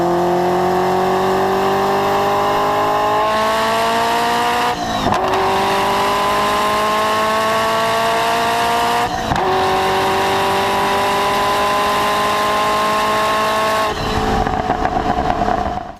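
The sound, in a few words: Ferrari F40 engine revving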